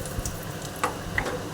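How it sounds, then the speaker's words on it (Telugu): Tempering spices, including dried red chillies, sizzle and crackle in hot oil for an okra stew, a soft steady frying hiss with scattered small pops. "తాలింపు అండి"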